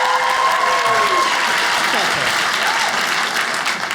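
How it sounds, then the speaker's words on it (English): Audience at a comedy show breaks into loud, sustained applause filling the room, with cheering and a voice speaking over the clapping early on. "Round of applause."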